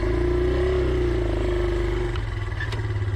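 A 4-stroke 125cc enduro motorcycle on road tyres with a sticky throttle holds a loud, sustained high rev close by, then the pitch wavers and drops slightly near the end.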